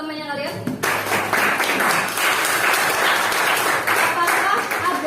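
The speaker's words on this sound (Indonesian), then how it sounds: "Berikan tepuk tangan untuk temannya kalian." A primary school class claps for a classmate in an Indonesian classroom, dense steady applause that starts after a brief pause and holds loud and close to the end, with voices mixed in.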